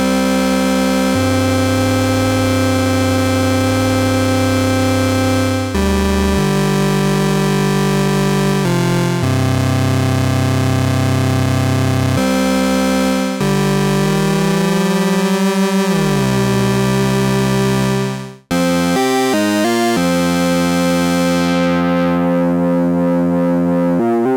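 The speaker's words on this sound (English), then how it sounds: "So then bringing a second oscillator in with a different pitch, for example, we can do all these sort of lovely things." Arturia MiniBrute 2 analog synthesizer playing a second oscillator at a different pitch, a loud, continuous, buzzy, raucous tone with shifting notes and sweeping pitch bends, cut off briefly near the end, with no talking.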